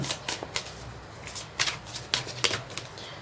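Tarot cards are shuffled in quick riffling bursts, close and fairly quiet, with a few sharper flicks and snaps between them and no talk.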